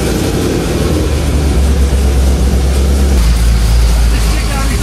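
A car engine idles loudly in park, its heavy low rumble and exhaust drone steady throughout and close by, with a roar that swells slightly partway through.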